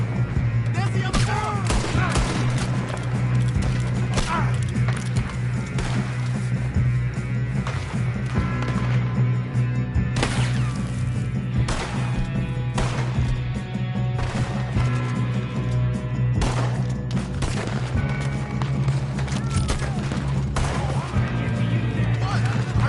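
Rapid volleys of gunfire in the Western game Red Dead Redemption, sharp shots cracking repeatedly over a steady loud backdrop of music and action, with voices shouting in between.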